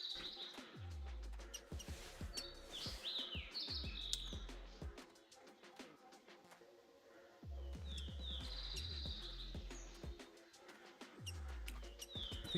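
In the hunting video game theHunter Classic, birds call with short high chirps in a forest on Timbergold Trails. The calls repeat in scattered bursts over crunchy footsteps and low thumps moving through the ground cover.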